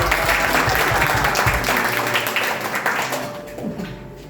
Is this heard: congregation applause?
yes